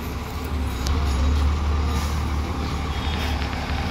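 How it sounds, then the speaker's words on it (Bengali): A cattle truck pulls into a cow market at Shahjahanpur, its loud diesel engine rumbling steadily close by, with faint clanks and ambient bustle around it. "এই একটা গরুর ট্রাক হাজির।"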